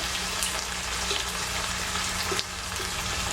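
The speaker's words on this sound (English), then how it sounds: "Basically rinse the jars out and pour the liquid back in there so we get every little bit of sauce." Water splashes and runs steadily while spaghetti sauce jars are rinsed out at a kitchen sink. The noise is continuous and close, with a short dip near the end and no talking.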